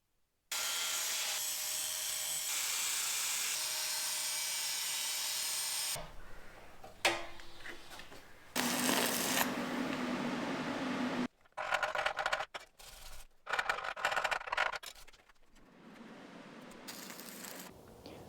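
Steel truck frame being notched with a power cutting tool to clear the starter of an oversized engine: a loud sustained grinding burst, then several shorter intermittent cuts with brief pauses between them.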